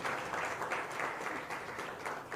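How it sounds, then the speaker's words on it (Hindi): Audience at a Dholera smart city property presentation applauds steadily, a dense, even wash of many hands clapping at moderate volume with no talk over it. "आप इन लोगों के लिए एक बार जोरदार तालियां बजा सकते हैं"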